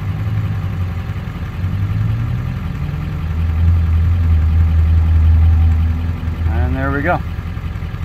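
A 1999 car engine restarted warm and idling steadily, with a low rumble that swells slightly midway, while someone speaks briefly over it near the end.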